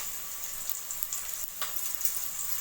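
Onions sauté in a pan with a quiet, continuous hiss and a few soft crackles, heard alone without any voice.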